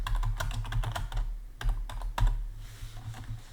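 Rapid clattering keystrokes on a computer keyboard, close and fairly loud, in uneven bursts with brief pauses, alone without talk.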